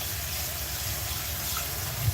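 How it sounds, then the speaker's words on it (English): Food being rinsed under a running kitchen tap, a steady close gush of water pouring continuously with no talk over it. "I like to rinse it off until you don't see any white, any dirt."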